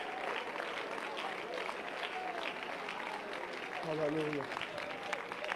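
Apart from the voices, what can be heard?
church congregation clapping hands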